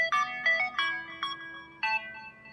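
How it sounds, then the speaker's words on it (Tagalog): The startup ringtone of a Cherry Aqua S11 Pro smartphone plays as it powers on or off: a short, bright sequence of chiming melodic notes with a few quick pulses. It is fairly quiet and has no talk. "andyan pa rin yung legendary ringtone ng Cherry kapag nag-on at nag-off yung phone natin"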